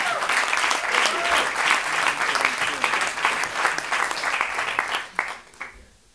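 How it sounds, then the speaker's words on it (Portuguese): A comedy roast audience gives a strong round of applause, loud and continuous, then thins out with a few last claps before stopping. "Um grande salva de palmas para Luís Gomes."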